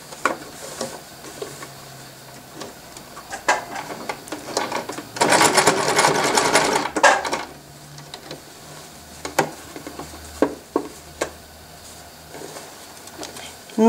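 A sewing machine stitching through several layers of fabric along the side seam of a sleeveless garment gives a short, dense mechanical run of about two seconds, surrounded by sparse clicks and handling noises.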